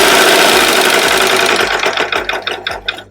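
Serger sewing machine stitching along the edge of a fabric napkin, a loud fast mechanical whir close by that slows into separate stitching pulses and fades toward the end; no talk.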